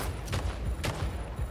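Gunfire in the Splitgate video game: a rapid burst of several shots in quick succession, loud and close, with no talking over it.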